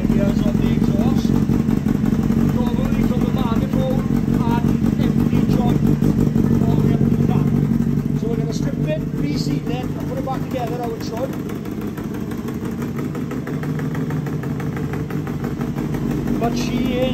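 A Honda Hornet motorcycle under restoration runs with its exhaust blowing out at several points, a loud close engine with a rapid clattering beat that eases slightly partway through, with voices heard over it.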